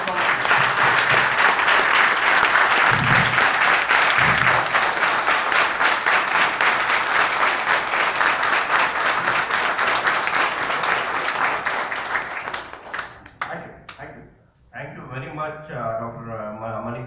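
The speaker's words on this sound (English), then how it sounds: "This was in fact the ovation which followed the applause followed was the loudest applause since morning I have heard." A large audience at a financial advisory officers' event breaks into sustained, loud applause and ovation that fills the room, tapering off as a voice begins speaking near the end.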